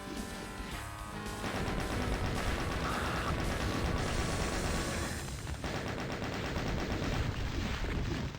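Rapid pump shotgun blasts and mechanical clatter from the Doom map Of Magma and Meat, a continuous loud barrage of gunfire over a thick, busy game soundscape with no talk.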